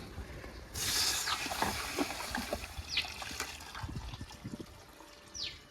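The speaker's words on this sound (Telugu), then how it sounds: "ఇప్పుడు ఇందులో తగినంత వాటర్ అయితే పోసుకుందాం" Water is poured into a cooking pot of chicken masala and spices, giving a close splashing gush at first, then trickling and sloshing softly at moderate volume.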